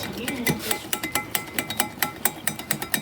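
A spoon clinks repeatedly against a measuring cup while brown gravy mix is stirred into hot water, a steady run of sharp, close metallic taps with no talking.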